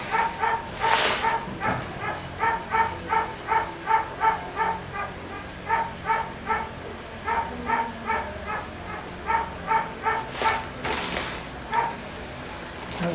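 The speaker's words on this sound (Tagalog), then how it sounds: "Ang ingay ng aso." A dog barks repeatedly in a steady series of sharp yaps at close range, joined by occasional clattering noises, while someone prepares a prosperity bowl with eggs.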